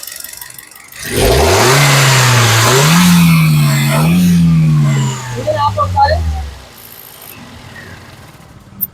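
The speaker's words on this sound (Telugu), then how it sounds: "ఇప్పుడు స్టార్టింగ్ లో అయితే ఉందండి కారు ఒకసారి ఎక్సలేటరీ" A 2011 Hyundai i10 Magna engine revs hard on the accelerator, rising from idle into a loud sustained roar with pitch swells, then dropping back and fading, with some rattle and voices nearby.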